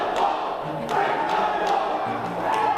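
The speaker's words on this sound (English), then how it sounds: "I hear a break the wall chant in the crowd." A large esports crowd at the 2023 Worlds Halo winner finals, OpTic vs SSG, roars and chants steadily, a dense rumble of many voices with occasional sharper thumps rising above it.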